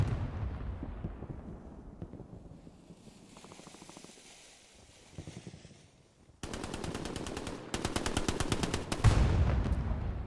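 Video game battle gunfire at Carentan train station: distant shots and rumbling at first, then loud rapid machine-gun bursts that dominate the final seconds.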